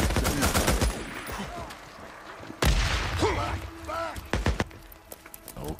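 Gunfire in the zombie-survival video game Days Gone, with rapid bursts of shots up front and sharper isolated reports later, mixed with game sounds and someone talking over the action.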